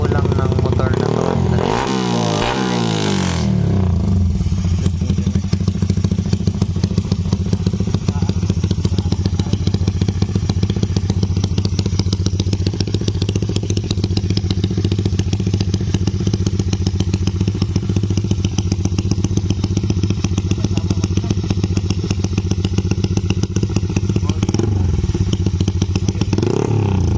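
A motorcycle fitted with a 66mm, 195cc jet ski engine on a Datatec tune runs loudly and steadily close by for the whole stretch, with occasional thuds and crackling pops over the idle.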